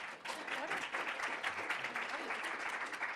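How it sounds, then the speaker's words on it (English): An audience at an impact-investing symposium applauds a panel, a sustained, even patter of many hands clapping at moderate distance with no break. "You're all supposed to applaud now."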